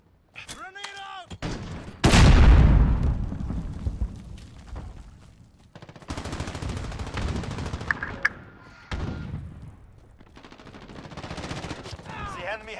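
Grenade blast and gunfire in Modern Warfare multiplayer: a heavy explosion booms up close, followed by bursts of rifle fire and scattered shots, with a player's voice talking over parts of it.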